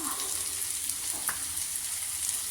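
Onions sauté in a hot pan for egg kothu parotta, giving a continuous close sizzle with small crackles and pops and no talking.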